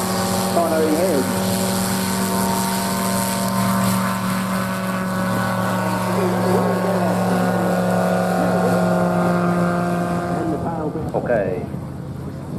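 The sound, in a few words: propeller aircraft taking off in STOL competition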